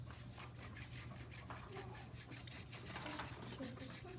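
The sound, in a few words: thick crayon rubbed on its side over paper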